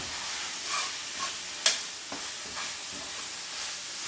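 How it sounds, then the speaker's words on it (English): Meat stir-fries fast over high heat in a pan, giving a steady close sizzle with scraping stir strokes and one sharp clack of a utensil partway through; no voices. "It's like stir frying in a Chinese restaurant. It cooks really fast on high heat,"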